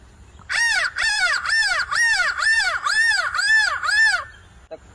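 A person imitating a crow, eight loud, evenly spaced harsh caws in quick succession, close to the listener, then silence.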